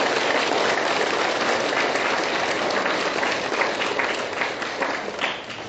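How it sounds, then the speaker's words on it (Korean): Sustained audience applause at a San Jose gathering, a dense, even wash of many hands clapping throughout, moderately loud and without talk. "박수."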